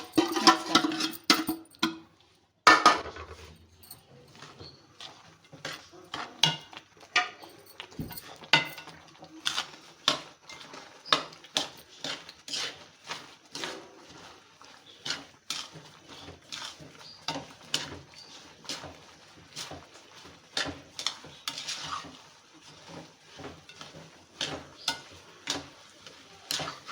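Panjiri ingredients being stirred in a cooking pot over a stove for a Punjabi sweet, with steady clinks and scrapes of a spoon against metal, close and fairly quiet, repeating in an uneven rhythm without talk.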